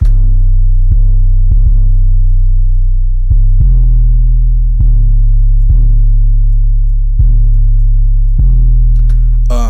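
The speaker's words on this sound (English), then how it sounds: "What the 808 sounds like this." Deep booming 808 sub-bass notes hit one after another in a slow rhythm, each sustaining with a heavy low hum before the next.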